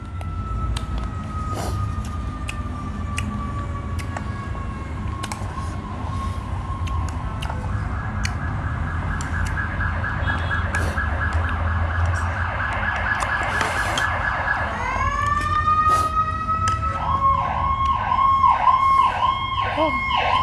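Ambulance sirens passing along a road near a hospital, a wailing siren rising and falling, then a second, more rapid yelping siren joining and growing louder as the vehicles come closer, over traffic rumble.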